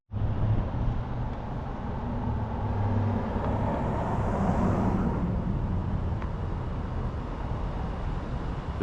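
Steady broadband road and engine rumble of a car driving east in the early morning, constant and close, like interior cabin noise with no talking.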